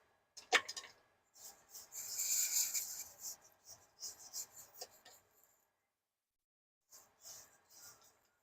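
Dough is scraped during late-night baking, giving soft rasping rubs in short strokes with quiet gaps, close and moderately faint.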